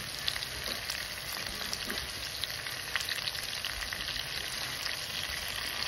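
Onion goes into pork that is frying in its own rendered oil, producing a dense, even sizzle that holds steady and close throughout with light stirring and no voices.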